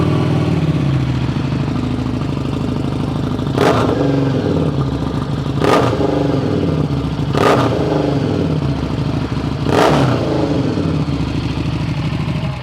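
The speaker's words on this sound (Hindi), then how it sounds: "वैंस एंड नाइन्स का एग्जॉस्ट लगा हुआ है, तो सुनना तो बनता ही है।" A Harley-Davidson Street 750 fitted with a Vance & Hines exhaust idles with a deep, loud, steady rumble, broken by four sharp throttle blips spaced roughly two seconds apart.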